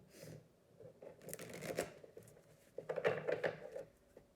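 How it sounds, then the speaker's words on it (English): An oracle card deck being shuffled by hand in a quiet room, giving soft papery riffles and flicks in two short bursts with a pause between, close and fairly faint. "So I am going to give these a good shuffle."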